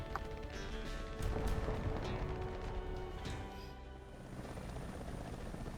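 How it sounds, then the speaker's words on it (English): Helicopter in the War Thunder combat game, a steady rotor and engine drone holding throughout with faint mechanical clatter, no talking. "Do I want to spawn my helicopter?"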